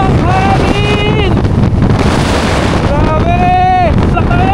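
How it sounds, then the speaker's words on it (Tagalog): Strong wind buffets the microphone during a motorcycle ride on a mountain road in Ilocos, a loud, steady rush. Someone speaks over it in short exclamations. "Ay, ang lakas ng hangin."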